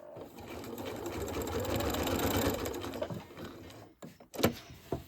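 A sewing machine stitches steadily while quilting a fabric table runner, a close, fairly quiet whir that slows and stops near the end with a few soft clicks.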